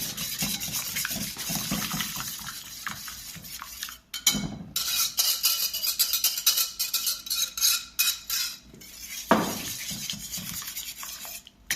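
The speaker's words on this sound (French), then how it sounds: "J'utilise le fouet." A whisk beating quiche batter of goat cheese and spinach in a bowl, quick rough scraping strokes and metallic ticks that stop briefly twice before resuming, close up with no talking.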